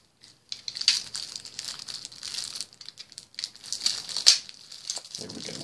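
A plastic wrapper on Marvel VS. System X-Men vs. Brotherhood trading cards crinkles and tears close up, in uneven bursts of crackling and rustling with brief pauses between.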